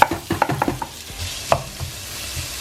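Spices crackle and sizzle in hot oil in a saucepan for an Indian dhal, with quick sharp pops and stirring clatter up front, easing into a steady soft frying hiss.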